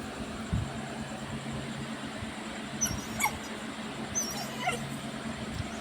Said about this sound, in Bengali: কুকুরগুলো কি করে দেখো,